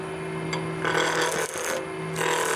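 A D-Way skew chisel cuts into wood spinning on a lathe at 2,000 RPM while turning a lidded box, giving short bursts of rasping, hissing shear over a steady motor hum, close and alone.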